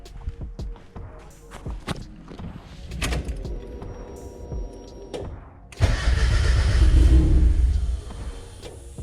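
A Mazda Miata engine mid-build cranks and fires: several seconds of sputtering, clunking attempts, then a sudden loud catch and rough running for about two seconds before it drops off again.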